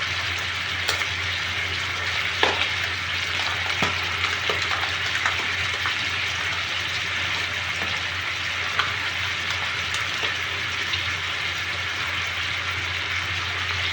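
Igado, a Filipino pork and liver dish, frying in a pan in a makeshift spot by a bathroom in Saudi Arabia: a steady, close sizzle with occasional sharper pops and spatters, no talking over it.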